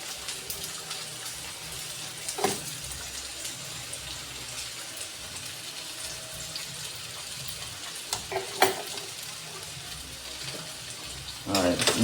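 Steak fries sizzle steadily in a hot pan, with a soft continuous frying hiss and a few scraping clatters as they are tossed and shaken.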